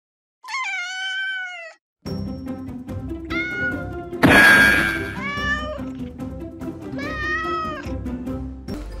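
A fluffy toy cat gives a series of close, fairly loud meows, several distinct calls separated by short pauses, with a brief burst of rustling handling noise in the middle.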